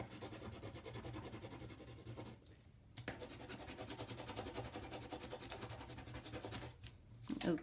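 A pencil rubs back and forth over folded drawing paper, a continuous close, quiet scratchy rasp with a brief pause partway and a short break near the end.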